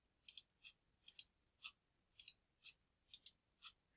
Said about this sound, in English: Going to keep on clicking around the nose.